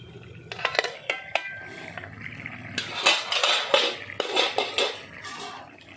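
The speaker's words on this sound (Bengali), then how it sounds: "ঢাকনাটা খুলে নিচ্ছি।" Metal lid lifted off a cooking pot of bottle gourd and shrimp, a few clanks and scrapes of metal on metal, then a busier stretch of rattling and clattering cookware.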